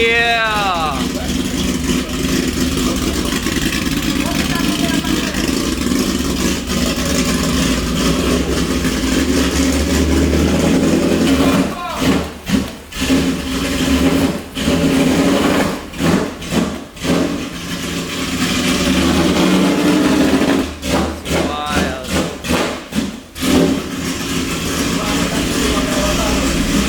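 Nissan Skyline R32 converted to a V8 with individual throttle bodies, running loudly up close with a rough, lumpy idle and sharp throttle blips in bursts, while a voice speaks briefly over it.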